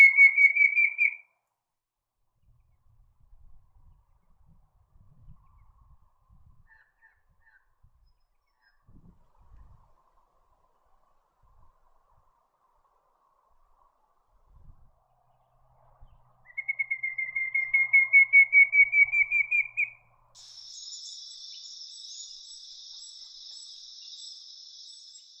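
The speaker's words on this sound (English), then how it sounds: "The male pallid cuckoo often calls from an exposed branch in dry, timbered areas." A male pallid cuckoo in dry, timbered country gives a rising series of clear whistled notes, heard near the start and again later after a long quiet gap, followed by a buzzy insect-like trill.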